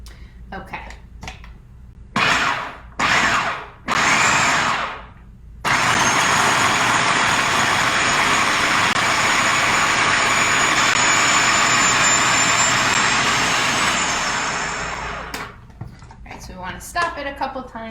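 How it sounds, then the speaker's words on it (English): A food processor blends falafel batter in one loud, steady whirring run of about ten seconds, preceded by short bursts and followed by a voice talking. "Stop it a couple times just to scrape down the sides, make sure everything gets nice and blend it up."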